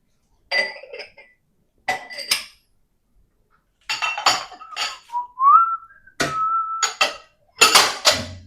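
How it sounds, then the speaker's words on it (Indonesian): Dishes being washed at home, with intermittent clinks and clatters of plates, pots and cutlery in separate bursts, close and loud, plus a short whistled tune in the middle. "Close dulu Dut, gue mau cuci piring"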